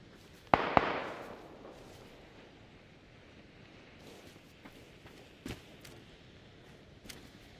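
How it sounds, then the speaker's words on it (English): Two sharp, loud sniper rifle cracks close together in PUBG gameplay, followed by a few fainter distant shots spaced out against quiet background ambience. "There's a sniper rifle shooting."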